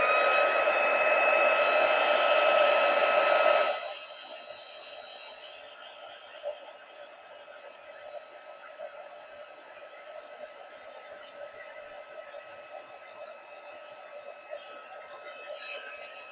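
A heat tool for heat embossing on fabric ephemera blows with a loud, steady whirring rush for about four seconds, then cuts off, leaving faint room noise.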